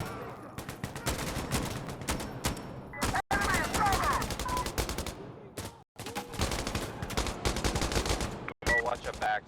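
Rapid automatic gunfire rattles in the video game Insurgency Sandstorm. Dense bursts of shots come close and loud, broken by brief gaps while a player talks under the shooting.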